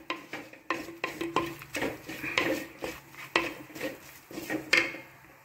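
Moong dal flour is stirred and fried in a pan with banana flower for a poriyal, heard as repeated scraping knocks of a spatula against the pan, rhythmic and close, with only a faint sizzle beneath and no voices.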